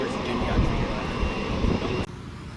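Both engines of a twin-engine airplane run with a steady, loud roar under a person talking, then the sound drops off abruptly near the end.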